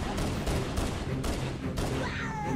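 Halo CE gunfire on the Pillar of Autumn level rattles in quick bursts of rapid shots, close and loud, amid layered combat noise.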